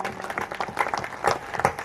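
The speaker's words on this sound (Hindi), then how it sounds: "इसके लिए मैं चाहूंगा तालियों के गड़गड़ाहट से सम्मान।" Applause from an audience at a musical Ramkatha recitation, brisk clapping with uneven bursts, moderately loud and steady through the short span.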